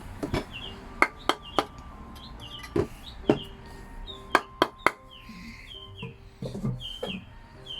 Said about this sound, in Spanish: con un martillo, con una madera, lo golpeamos bien para que asiente